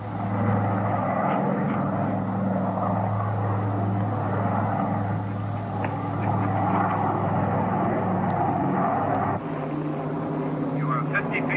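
A propeller aircraft drones steadily on landing approach, a continuous engine hum with a slight shift partway through, while voices talk over it.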